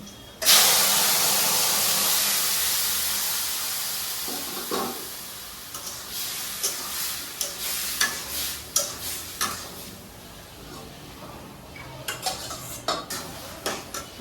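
Chopped bottle gourd drops into a hot pan with a loud initial sizzle that gradually fades, followed by repeated metal spoon scrapes and clinks as it is stirred and fried.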